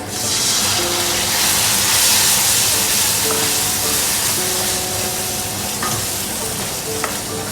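Tin of tomatoes tipped into onions and masala frying for paneer butter masala, giving a loud, steady hiss and sizzle with a few scraping stirs near the end.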